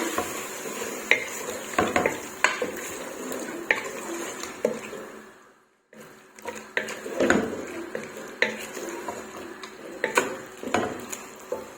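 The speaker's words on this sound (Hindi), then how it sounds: "इनको अच्छे से मिक्स करती हूँ।" Spices are stirred in a metal pot for baingan gosht, with repeated close clinks and scrapes of a spoon against the pan over a light sizzle, pausing briefly midway before the stirring resumes.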